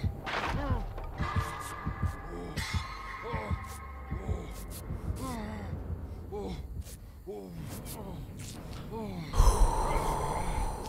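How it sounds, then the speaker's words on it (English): A throbbing heartbeat effect pulses repeatedly in the Dead by Daylight horror game, low thumps recurring amid breathy gasps and game noise, with a louder burst near the end. "If I don't hit them directly, but it's nearby, it does. Yeah, like a heartbeat, noise."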